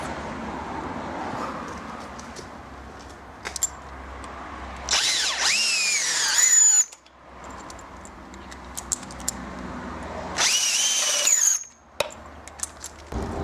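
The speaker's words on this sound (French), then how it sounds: "là on commence à faire le trou en bas, toujours en mèche de 10" A power drill with a 10 mm bit boring holes while fitting a garage door kit, two loud whining bursts of a few seconds each that rise in pitch, separated by a quieter stretch with faint clatter.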